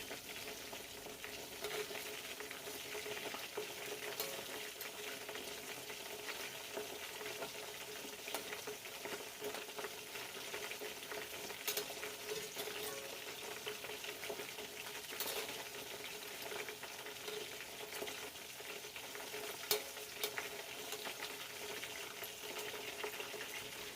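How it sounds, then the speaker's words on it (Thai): Fish pieces frying in hot oil in a pan, for a spicy curry-paste fried fish dish, give a steady crackling sizzle with tiny pops. It runs continuously at a moderate level, close by, with no talking. "เราก็พลิกกับด้านปลาให้สุก เหมือนกันทั้งสองข้างค่ะ"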